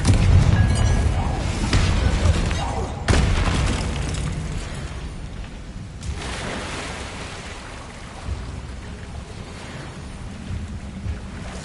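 A Confringo fire spell explodes in the Hogwarts Legacy video game: a loud boom at the start and another sharp blast around three seconds in, then a rushing, surf-like rumble that fades, with a further burst near six seconds.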